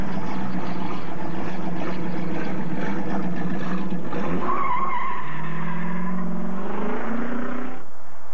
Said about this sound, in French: Une voiture ancienne de Pouenégamou.